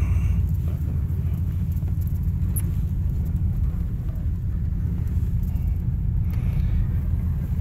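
A blue 1954 Ford Crestline being driven produces a steady, heavy low rumble of engine and road noise, close and constant, with no one talking.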